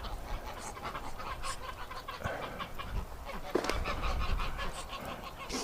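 Ducks in a winter setting call out in a busy chorus of honks and quacks, several birds overlapping near and far with steady outdoor noise beneath.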